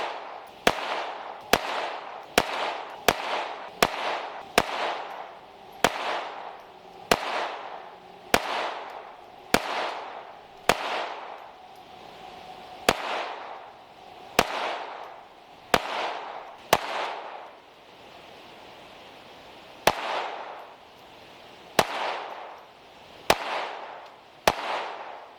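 A Taurus TX22 .22LR pistol fires at a range, about twenty sharp cracks in fast strings and spaced pairs, each with a short ringing tail, loud and close.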